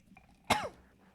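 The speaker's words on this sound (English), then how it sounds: "I just coughed." A single short cough, sharp and close, standing alone against a quiet background.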